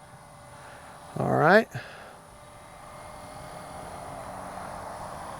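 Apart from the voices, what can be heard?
radio-controlled model airplane flying, engine and propeller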